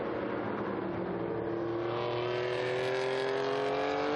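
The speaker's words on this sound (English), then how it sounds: "Through come the Porsche, sounding really crisp." A historic Porsche race car at the Estoril circuit during a classic racing event, its engine a loud, continuous crisp howl whose pitch climbs steadily as it passes close by.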